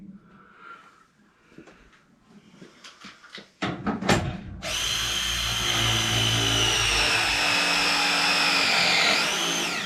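A loud steady mechanical whine of a pipe-crimping tool starts partway through a water heater install and runs continuously to the end, after several seconds of quieter clinks and handling noise.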